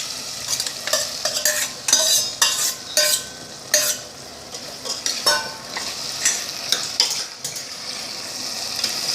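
Cooked potato, beans and carrot being stirred into a frying masala in a pan, with repeated scraping and clinking strokes over a steady sizzle.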